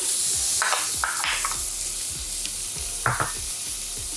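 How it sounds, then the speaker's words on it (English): Red onions and spring onion fry in hot oil, a loud close sizzle with several sharp stirring clatters and scrapes spread through the few seconds, no voices. "I'll fry that up for a bit."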